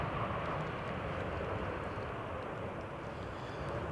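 A steady, broad engine roar from an aircraft at Manchester Airport on a stormy day, filling the whole stretch at an even, loud level with no pauses.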